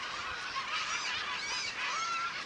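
A colony of sociable yellow-legged gulls calls in a great meadow. Many overlapping squawks and cries form a dense, continuous chorus at moderate distance.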